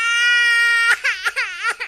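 A baby's crying sound effect plays as a short, loud wail that breaks into sobbing hiccups, heard alone with no talking, triggered inside an Entry block-coding program.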